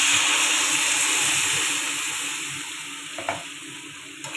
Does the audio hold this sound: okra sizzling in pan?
yes